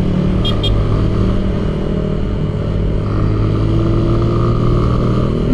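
A roughly 3.5-liter car engine drones loud and steady from close inside the cabin, its tone holding near-constant with subtle shifts, a brief metallic click early on.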